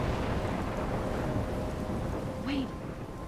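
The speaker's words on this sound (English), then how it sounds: "I'm trapped in a storm?" A thunderstorm in the video game Life is Strange, with dense, steady rain and a low rumble of thunder filling the scene, loud and continuous throughout.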